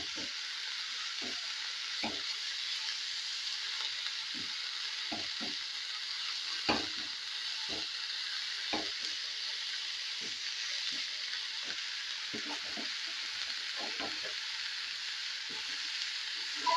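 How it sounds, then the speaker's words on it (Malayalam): Spinach sautéing in a pan, a soft steady hiss with sharp intermittent clicks of a spoon scraping and tapping as it is stirred, fairly quiet and without talk. "ചീര ഇട്ടെടുത്തിട്ട് ഇനി ചെറുതായിട്ടൊന്ന് ഇളക്കി കൊടുക്കുക."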